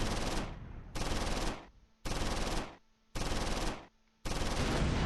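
Machine gun fire in the World War II strategy game Close Combat IV: four loud, sustained automatic bursts, each about a second long, separated by short pauses.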